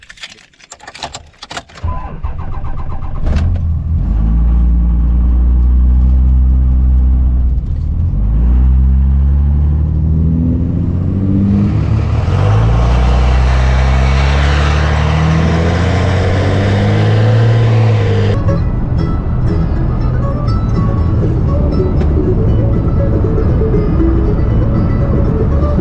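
A 2019 Kubota BX23S subcompact tractor runs with an old, worn-out Bush Hog five-foot tiller. The engine drones loud and steady after a clattering start, and a harsher, rising churn joins in midway before easing back.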